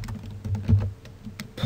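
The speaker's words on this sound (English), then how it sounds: "I'm typing so slow. My keyboard's pretty far away" Typing on a computer keyboard set fairly far from the microphone, a run of irregular soft key clicks and taps, moderately loud, with no speech.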